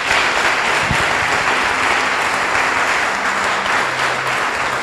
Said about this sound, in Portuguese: Dê um aplauso a Jesus, sim,